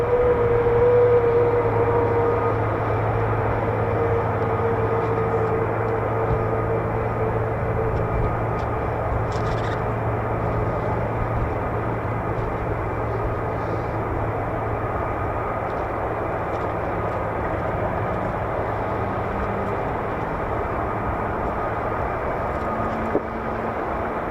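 Aircraft engines start up at the ends of a runway, a steady, continuous roar and hum heard from a distance, holding level for the whole stretch with a faint higher whine above it.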